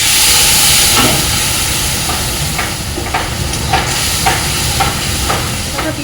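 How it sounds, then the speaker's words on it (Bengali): Oil sizzles loudly and continuously as cumin seeds fry in it, with a few soft clicks and stirring taps scattered over the steady hiss. "এই তেলের মধ্যে আমি সাদা জিরে দিয়ে দেবো"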